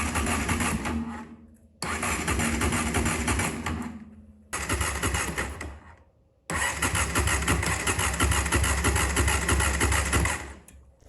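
A Honda CRF450X dirt bike left sitting for ten years, its engine cranked on the starter in three long, even bursts separated by short silences, close and loud with a steady churning rhythm.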